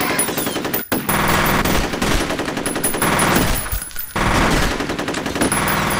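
Sustained automatic gunfire in the F.E.A.R. video game, loud, rapid and nearly continuous across the clip, with one brief break and a slight lull, and no speech over it.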